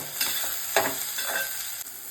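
Mixed vegetables and tomato frying and being stirred in a pan for fried rice, with a soft steady sizzle and a few scraping stirs.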